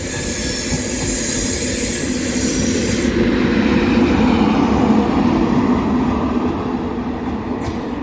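LNER train at Doncaster station on a service to King's Cross, a loud steady rumble of rolling wheels and rail noise with faint squealing, close by and without talk.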